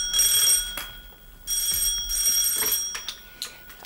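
A telephone rings in a home in an old Egyptian film, two loud bursts of rapid electric bell ringing separated by a short pause, close and clear with no talking.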